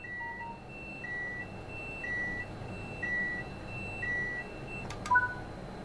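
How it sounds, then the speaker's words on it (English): Train simulator video game cab alarm for tilt authorization and speed supervision: repeated short electronic beeps about once per second over a low steady hum, with a brief sharper tone near the end. "This is the tilt authorization and speed supervision alarm and will need to be acknowledged."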